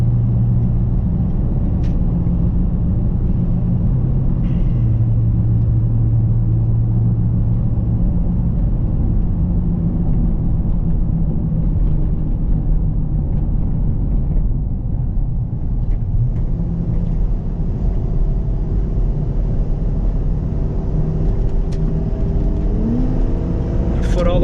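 A Ford Excursion SUV cruises and then accelerates on an open road, its engine rumbling steadily from inside the cabin with a rising whir toward the end and no talk.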